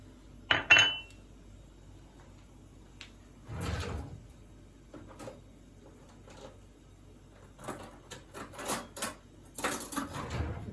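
A fork whisks two eggs in a mixing bowl, giving quiet scattered clinks and a busier cluster of metal-on-bowl taps toward the end, with soft kitchen handling sounds earlier.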